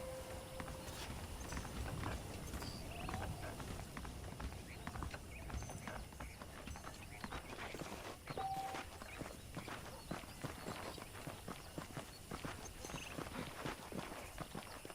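Saddled horses walk along in Red Dead Redemption, their hooves clip-clopping steadily and close by for the whole stretch, with a brief whinny and a voice speaking over them.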